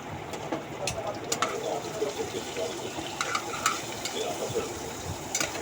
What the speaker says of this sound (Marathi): चांगलं परतून झाल्यानंतर कांद्याचं कच्चेपण जाऊ द्या।